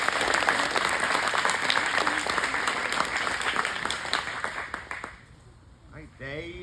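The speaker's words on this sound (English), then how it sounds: "Give them a round of applause." A crowd claps in loud, sustained applause for several seconds, then it thins and fades out.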